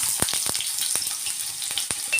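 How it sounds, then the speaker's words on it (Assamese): Potato pieces frying in oil in a pan with garlic, ginger, onion, bay leaf and dried red chilli, a steady close sizzle punctuated by several sharp crackles and pops, no talk. "এতিয়া মই আলুকেইডোখৰ যে অকণমান ভাজি লওঁ"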